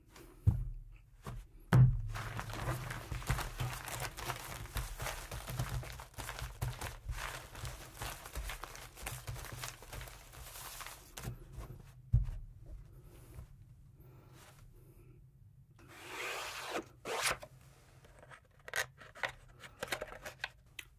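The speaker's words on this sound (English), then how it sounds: "now it's time for me to shuffle." Cards from a six-deck casino shoe are riffled and shuffled in repeated bursts of quick rustling and snapping, close by, with quieter pauses and handling noises in between.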